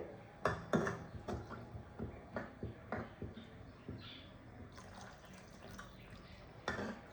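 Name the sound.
pouring water into a curry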